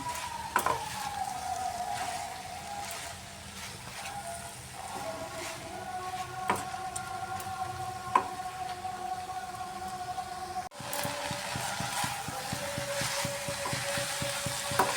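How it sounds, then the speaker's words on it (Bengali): Gourd and other vegetables with green chillies stir-frying in a pan with bhetu greens, giving a steady sizzle broken by sharp utensil clinks and scrapes, with a faint ringing tone in the background. "এবার সবজিটাকে আমি একটু ভালো করে মিক্সড করে নিচ্ছি"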